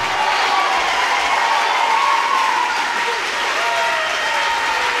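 A church congregation at a combined worship service applauds and cheers loudly and steadily, a thick crowd roar with shouting voices rising and falling over continuous clapping.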